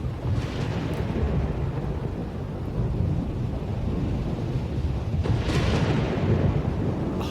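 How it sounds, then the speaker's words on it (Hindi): Film sound effect of a thunderstorm on Mars: a dense, loud wall of rumbling thunder and roaring wind with rolling booms, steady throughout and without voices. "हम मार्स पर ही पले बड़े हैं, लेकिन कभी ऐसा तूफान नहीं देखा।"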